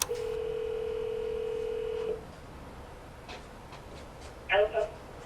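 A steady telephone dial tone holds for about two seconds during a phone call, then drops away, and a couple of brief beeps follow near the end.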